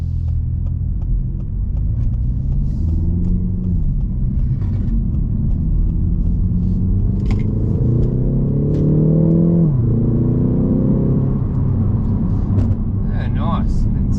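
A 2021 Ford Focus ST with 200 kilowatts through the front wheels accelerates from inside the cabin, its engine note climbing through gears under a deep road rumble, with talk over parts of it.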